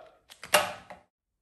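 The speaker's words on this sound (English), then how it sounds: "we're gonna have to get these keys out and open her up" Keys click and turn in the lock of a locked Gearwrench GSX rolling tool cabinet, giving a short series of close metallic clicks and a creaking latch over about a second, with no talking.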